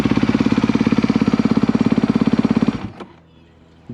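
A 2022 Honda CRF250RX dirt bike engine runs loud and close with a rapid, steady pulsing beat, then cuts off abruptly, leaving a few faint clicks.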